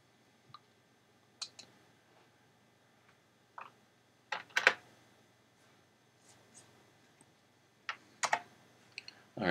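Keyboard shortcuts are typed on a computer keyboard in short, sparse bursts of crisp key clicks separated by quiet pauses, close and fairly soft, with no talking.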